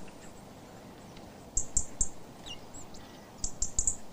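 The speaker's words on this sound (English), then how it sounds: "Robins have a scolding call. It's heard in many situations throughout the year." A European robin gives scolding calls in two clusters of sharp, ticking clicks, three quick ticks, a pause, then four more, fairly close against a quiet outdoor background.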